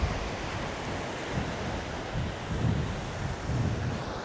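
Waves roll and break against rocks on a beach in Botolan, Zambales, a broad continuous roar with swelling surges every second or so, mixed with wind buffeting the microphone.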